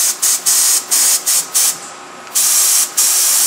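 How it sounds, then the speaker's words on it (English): Several short bursts of spray hiss from a catalyzed spray gun test-sprayed with atomizing air at about 10 pounds, each cut off sharply, with a longer sustained spray near the end; close and loud. "We do a test spray, trigger pull."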